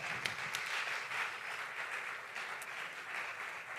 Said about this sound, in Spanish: Otro fuerte aplauso.